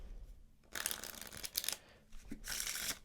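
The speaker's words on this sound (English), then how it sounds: "And then we can give the deck a few cuts and shuffles" Deck of playing cards being cut and shuffled by hand, two bursts of riffling flutter separated by a brief pause, close and crisp with no talking.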